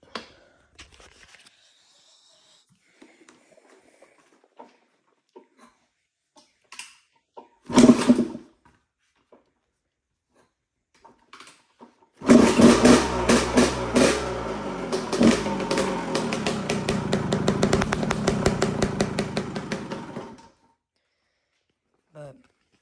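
A cold 1989 Honda CR125R two-stroke motorcycle gets a kick before its engine catches and runs for about eight seconds, a loud, steady, buzzing idle with small revs, after a quiet stretch with a few faint clunks.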